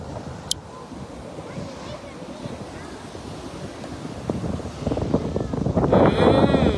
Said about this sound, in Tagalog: Medyo maalon kasi ngayon, oh.